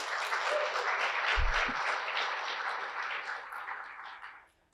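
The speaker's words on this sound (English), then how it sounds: "Can we get a round of applause for Carmina Marquez?" An audience at a poetry showcase gives a warm round of applause, a sustained crowd of clapping that fades out toward the end.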